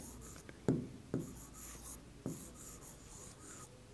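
Pen writing on paper during a class 6 maths lesson, a quiet close scratching with several sharp strokes and taps spaced irregularly, in a still room with no talk.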